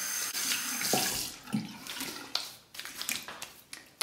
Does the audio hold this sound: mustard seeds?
no